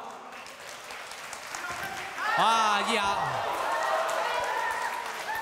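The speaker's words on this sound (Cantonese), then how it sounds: "大家俾掌聲支持佢好冇" A studio audience at a kickboxing and MMA show breaks into sustained applause and cheering that swells and holds, while a voice exclaims over it.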